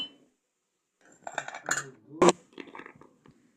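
Metal spoon clinking against a mug as coffee powder goes in over milk, a few sharp separate clinks and scrapes, one louder strike near the middle, close and otherwise quiet.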